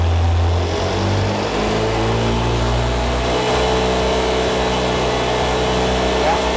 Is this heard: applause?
no